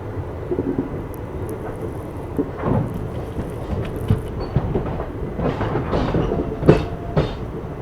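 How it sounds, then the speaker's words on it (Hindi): The 14041 Mussoorie Express rolls into Garhmukteshwar station with a loud rumble and irregular clattering wheel knocks, and sharp metallic bangs rise near the end. "ये अपनी मसूरी एक्सप्रेस जो है गढ़मुक्तेश्वर अराइव कर रही है"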